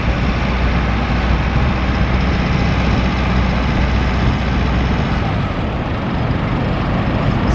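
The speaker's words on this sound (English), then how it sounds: "Bell tractor with an automatic gearbox" A powerful Bell tractor with a straight automatic gearbox, in two-wheel drive, runs its engine close by, giving a loud, constant low roar that holds steady throughout.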